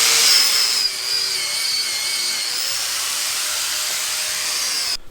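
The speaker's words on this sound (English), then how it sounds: "I'm going to kind of grind these down the rest of the way, try to get most of all the rust off that I can" A power grinder grinding rust off a Toro Reelmaster 3100D cutting unit, one continuous loud high-pitched whine with a bright metallic edge, close-up and steady until it cuts off at the end.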